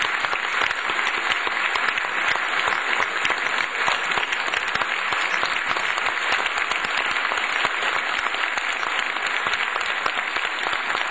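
Audience at a Turkish classical music club concert at Koç University applauds the conductor. The clapping is loud, dense and continuous throughout.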